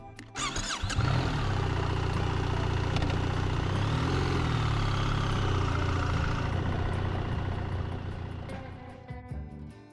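A BMW R1300 GS Adventure motorcycle on the road in Gran Canaria, its engine revving up loud and holding a strong steady drone for several seconds before easing off.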